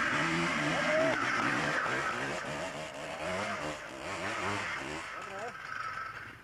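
An enduro motorcycle engine revs hard on the throttle during a 1994 group trail ride near Košice, its pitch rising and falling in loud, close bursts, with people talking over it.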